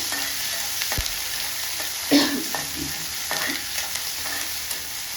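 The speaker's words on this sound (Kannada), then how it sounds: "ಈಗ ಈ ಟೈಮ್ದಲ್ಲಿ ಕರಿಬೇವು, ಹಸಿಮೆಣಸಿನ್ಕಾಯಿ ಕೂಡ ಹಾಕ್ತಾಯಿದ್ದೀನಿ. ಇದೆಲ್ಲ ಚೆನ್ನಾಗಿ ಬಾಡಿಸ್ಕೋಬೇಕು." Curry leaves and green chillies sauté in hot oil in a pan, a soft steady sizzle with a few quiet stirring scrapes and clinks.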